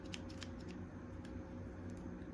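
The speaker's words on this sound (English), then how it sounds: "I'm gonna go ahead and cut the extra yarn" A few quick, faint snips of scissors cutting through crochet yarn, close by over a steady low background hum, with no talking.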